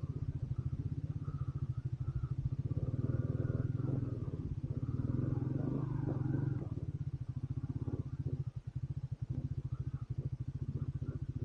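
A Triumph Speed 400 motorcycle engine idling and revving nearby, a deep rapid pulsing throb that rises for a few seconds and then settles back to a rough idle, with occasional voices.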